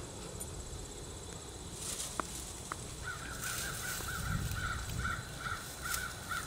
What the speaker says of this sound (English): Hear the birds, nature